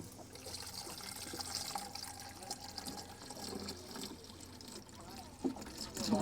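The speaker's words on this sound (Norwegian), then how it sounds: "Og så fyller vi vann i den her." Water pours and trickles into a container at close range, soft and fairly quiet, with faint background noise and a few small clunks near the end.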